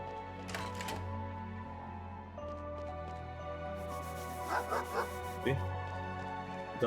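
A dog barks in the fantasy RPG Chained Echoes, in the Tormund area. There are a few short, soft bark bursts over quiet, sustained game music tones.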